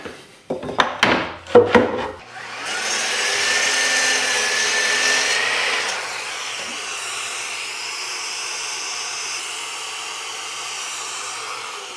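A power tool cuts through a piece of walnut wood: a few sharp knocks first, then a sustained whining, hissing cut that eases slightly in level and continues steadily to the end, with no talking.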